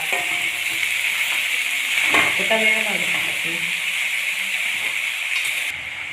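Taro stem stir-fry being stirred and mixed in a hot pan, a steady loud sizzle with a few close scraping spoon strokes in the middle, a voice speaking briefly over it.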